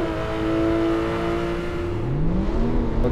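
Porsche 911 R launching at a race start at Red Bull Ring in Assetto Corsa, steady engine drone from a pack of cars, then a rising rev sweep as one pulls away, loud and close.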